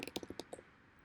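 A search typed on a computer keyboard, a quick burst of about nine light key clicks in an irregular rhythm, close and quiet, followed by near silence.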